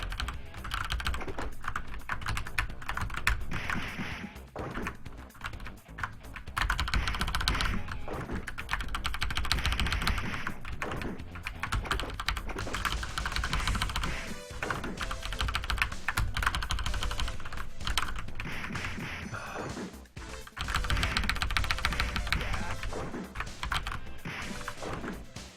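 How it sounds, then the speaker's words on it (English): A computer keyboard clicks steadily and rapidly during a Double Dragon 2 speedrun, with dense typing running throughout. "you'll hear a another click from my keyboard"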